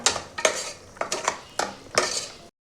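A spoon scrapes and knocks repeatedly against a pan while mint, coriander and green chili paste is stirred and sautéed, giving five or six distinct close clinking strokes at an uneven rhythm before stopping.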